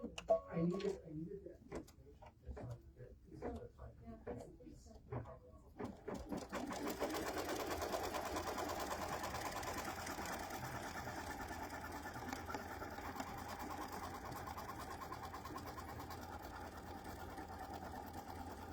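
Embroidery machine stitching a placement line onto peach background fabric for a quilt block, a steady rapid mechanical stitching drone that starts partway in and runs on evenly after some quiet talk at the start.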